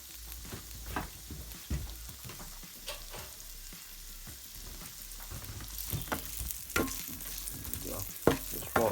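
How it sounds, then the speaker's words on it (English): Onions sizzling and frying in a hot pan, a constant crackling hiss with scattered pops and occasional utensil scrapes as they are moved about, close and moderately loud, with no voices. "we're going to add the onions in here and fry these"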